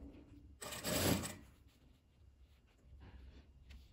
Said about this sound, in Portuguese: E vou costurar com um pezinho de máquina.